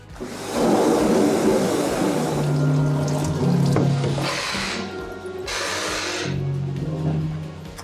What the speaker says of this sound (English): Follow me out to the washout booth and we're going to spray it out.